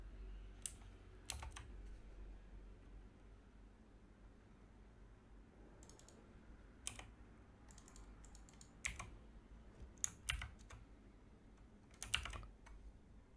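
Values are typed on a computer keyboard in scattered bursts of crisp key clicks, close and fairly quiet, separated by pauses with a faint background hiss.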